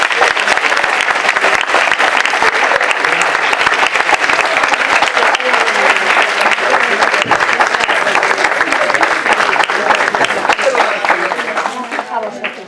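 Sustained, loud applause from a large audience fills a school graduation celebration at a secondary school's cultural event, steady clapping throughout before tapering slightly at the end.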